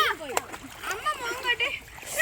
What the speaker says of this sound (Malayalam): ശരിക്കും വാസന്തി മുങ്ങിട്ട് സുന്ദരിയായി.